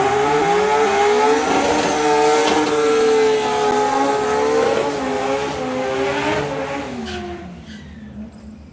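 Two VW Golfs, one four-cylinder and one six-cylinder, launch side by side in a drag race, engines roaring loudly with rising revs and gear changes before fading toward the end.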